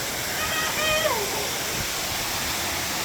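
Rushing water at the RiverRock Waterfall in St. Lucia forms a constant, loud broadband roar, with a voice talking briefly over it near the start.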